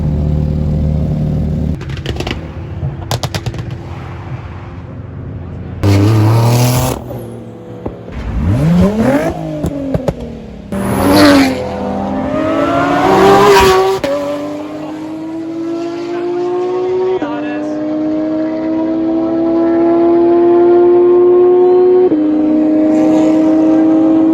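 A modified Nissan Patrol racing at night revs hard with loud bursts and sweeping engine pitch, then settles into a long rising high-speed drone, with brief voices mixed in.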